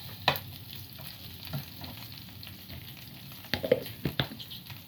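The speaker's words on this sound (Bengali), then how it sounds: "ঘি দিয়ে ভালোভাবে মিক্স করে দেব।" Chicken rogan roast mix is stirred in ghee, a soft low sizzle running under a few sharp spoon knocks against the pan. It is quiet and close.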